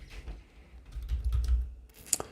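Quick, uneven clicking of keys on a computer keyboard during a Minecraft commands session, close and fairly soft with small bursts of keystrokes.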